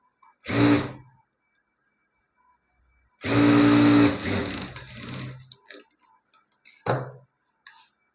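A sewing machine stitches the front part of a blouse in two bursts, one short and one longer whirring run, followed by a few softer clicks and handling sounds, no talking.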